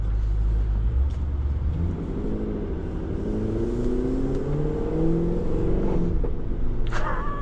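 A 2025 Hennessey H1000 Escalade-V in sport mode pulling away, its 1,000 HP engine rumbling low and then rising in a steady climbing roar, close and continuous, with no voices.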